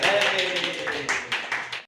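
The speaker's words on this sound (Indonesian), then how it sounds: "beri tepuk tangan untuk kalian" Students in a classroom clap their hands in a brief burst, with a voice heard at the start and the claps trailing off into separate smacks before stopping abruptly.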